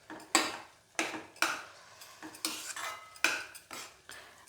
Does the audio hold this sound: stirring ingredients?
yes